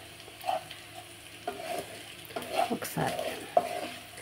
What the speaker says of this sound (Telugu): నేనైతే ఈ కర్రీ ఫ్రై చేస్తున్నాను అన్నమాట.